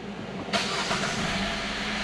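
A Hyundai Kona engine catches abruptly after a brief quiet crank following a timing system repair, then settles into a steady, slightly rough idle close by.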